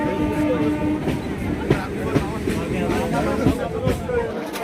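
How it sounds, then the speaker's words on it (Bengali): Namkhana local train pulling out of Sealdah station, a rumbling carriage with rhythmic clickety-clack of wheels over rail joints and periodic knocks, under a murmur of passenger chatter and voices inside the coach. "7টা 14 নামখানা লোকাল সঠিক সময় শিয়ালদহ স্টেশন থেকে ছেড়ে দিয়েছে নামখানার উদ্দেশ্যে।"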